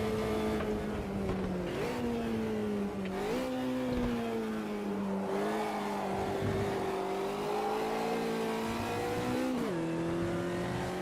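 Race car engine in Automobilista 2 at the Red Bull Ring, a steady loud drone that rises and falls with gear shifts and short lifts through corners, heard alone without talk.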